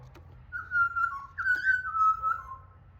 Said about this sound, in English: Little butcher bird is here.